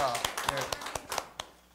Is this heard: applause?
yes